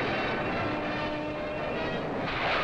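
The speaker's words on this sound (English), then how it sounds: "Spectacular sight in the sky is the Scorpion, America's most powerful jet interceptor." A Scorpion jet interceptor with rocket-carrying wingtip pods roars overhead in a 1950s flight display, a steady, loud, broadband engine rush that holds without a break.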